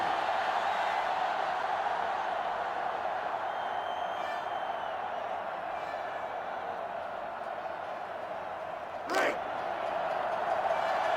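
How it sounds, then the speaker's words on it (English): A stadium crowd in the NCAA Football 2005 video game, at a Florida versus Clemson game, gives a steady, dense roar that holds level for about eleven seconds, with a brief louder burst near the end. "And this crowd is going crazy."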